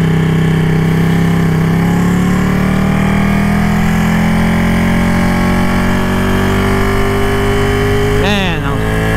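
A motorcycle is ridden around town, its engine a loud continuous drone with slowly rising pitch under wind noise, ending in a brief revving shift.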